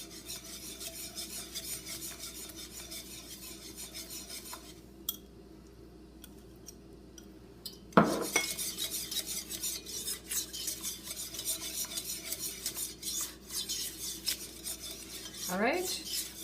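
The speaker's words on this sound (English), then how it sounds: "you're whisking very quickly because you don't want scrambled egg inside your roux, or ultimately inside your souffle" A whisk beats eggs quickly into a roux for a cheese soufflé, making continuous rapid scraping and ticking against the bowl. The whisking pauses briefly, then resumes with a sharp knock and renewed vigorous strokes, with no talking.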